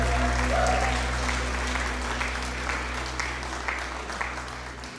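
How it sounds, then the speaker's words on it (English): A church audience gives a round of applause to a preacher arriving to speak, a steady wash of clapping from many hands that fades gradually across the span, with a low hum underneath. "So give him a round of applause."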